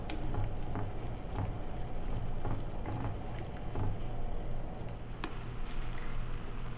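Brussels sprouts simmer in a pan with a dense, steady sizzle and bubbling that continues throughout, broken by occasional faint clicks and no speech.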